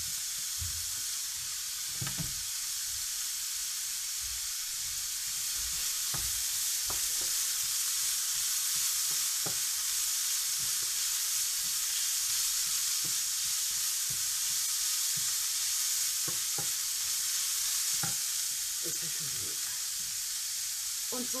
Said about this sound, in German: Gebe ich in diese Pfanne hier ein bisschen Öl.